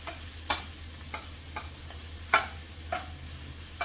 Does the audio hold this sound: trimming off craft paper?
no